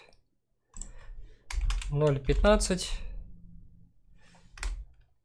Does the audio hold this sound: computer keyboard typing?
yes